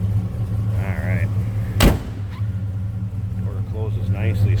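A 1972 Chevrolet Chevelle SS tribute with a 350 V8 idles with a low, steady rumble close by, a sharp clunk midway, and someone talking over it.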